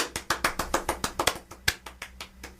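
A small group in a podcast studio gives a quick round of applause. The claps are brisk and close, lasting a couple of seconds before tapering off, with no talking.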